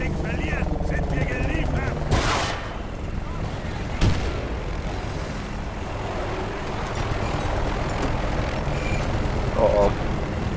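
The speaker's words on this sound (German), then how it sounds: "Feindlicher Heli, Panzerfaust." An enemy helicopter in the video game Battlefield: Bad Company 2, its continuous rotor and engine roar loud and dense, with sharp explosive blasts cutting through around two and four seconds.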